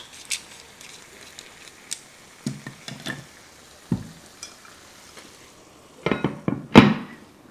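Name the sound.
aubergines cooking in a pan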